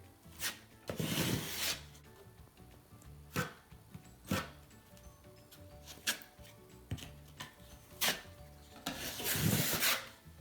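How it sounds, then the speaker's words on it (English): A 6-inch drywall knife spreads joint compound into wall cracks with repeated rasping, scraping strokes, some long and some short, at an irregular rhythm close by and without speech. "With the 6-inch blade, we're starting to work this joint compound into the cracks."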